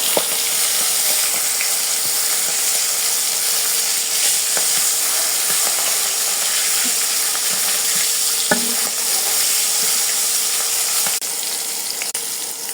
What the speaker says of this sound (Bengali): তো এটাকে আমি ভাজিতে নিয়ে দেবো